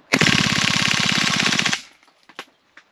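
An HK MP7 A1 gas blowback airsoft gun firing a sustained full-auto burst of rapid, loud, evenly spaced shots for about a second and a half, followed by a few faint clicks and handling knocks.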